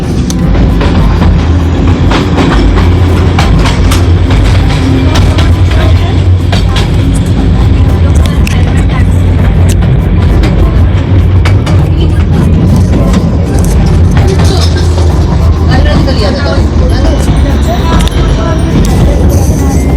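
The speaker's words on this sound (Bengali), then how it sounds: "আমরা আমাদের ট্রেন আস্তে আস্তে এগিয়ে চলেছে ঘুম স্টেশনের দিকে।" A loud, steady rumble of the Darjeeling Himalayan Railway mountain train running from Batasia Loop toward Ghum station, with rattles and clanks throughout and some voices mixed into the din.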